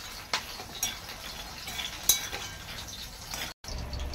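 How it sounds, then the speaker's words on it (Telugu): Peanuts frying in hot oil in a pan, a steady soft sizzle with a few sharp metallic clinks of a utensil against the pan. "ఇంకోవైపు ఇక్కడ పల్లీలు కూడా ఫ్రై అవుతున్నాయి."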